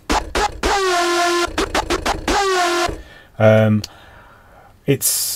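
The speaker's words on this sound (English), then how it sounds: "The sound that I'm going to run through is the big rave lead style sound" A bright, buzzy synthesizer lead plays short stabs and gliding notes, loud and upfront, with a brief deeper blast and a noisy burst at the end.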